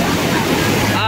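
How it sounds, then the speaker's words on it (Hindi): Strong surging water near Mannat, a loud continuous rush of waves with a steady low rumble underneath. "बहुत तगड़ा पानी आ रहा है"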